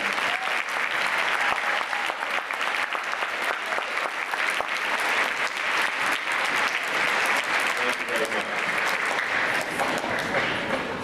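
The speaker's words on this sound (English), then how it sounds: "I would love it if the band would stand for one more round of applause" A school audience at a Veterans Day ceremony gives the band a long, dense round of clapping, loud and sustained for about eleven seconds without a break.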